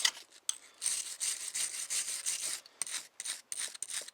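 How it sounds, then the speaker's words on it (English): A wire brush scrubs clogged aluminum out of a metal file in quick rasping back-and-forth strokes, a bright scratchy rhythm with short pauses between bursts, close and alone. "So first, let's try the wire brush."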